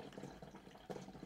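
Used engine oil from an MK7 Golf GTI, thinned by engine flush, pours steadily through a paint strainer, a faint continuous liquid trickle with no talking.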